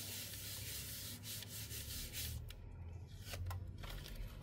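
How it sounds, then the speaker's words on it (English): A blending block rubs Kaleidacolor ink onto paper in a close, soft, scratchy series of strokes, with a few brief pauses between passes and no talking. "and just give it another rub."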